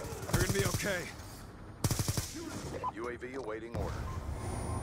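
Short bursts of MTAR assault rifle fire fitted with a suppressor in Black Ops 2 multiplayer, rattling in quick rapid strings between pauses while someone talks over the gameplay.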